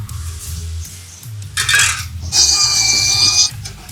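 Old screws being worked out of a Cadillac Seville: close metallic rubbing and scraping in short bursts, then a brighter squeaky grinding scrape lasting about a second, with no talk.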